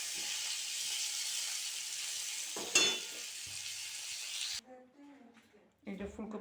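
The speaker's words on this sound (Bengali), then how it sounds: "এই যে দেখুন ফুলকপিটা আমার ভাজা হচ্ছে।" Cauliflower fries in hot oil in a home kitchen with a loud, steady sizzle. A brief clatter sounds partway through, then the sizzle cuts off and quieter kitchen sounds follow.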